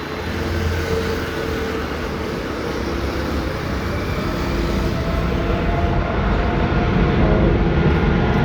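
Roar of Boeing 767 jet engines at Delhi Airport, a steady broadband rumble with low drone that holds continuously and builds slightly louder toward the end, heard from fairly close with no talking.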